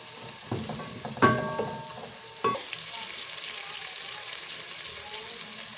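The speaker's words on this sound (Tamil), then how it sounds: "தேங்காய் பாலை சேர்த்துக்கொள்வோம்." Coconut milk poured into a frying pan of golden onions, a sharp hiss and bubbling surge after a few clinks, then an even, steady sizzle of liquid simmering up close.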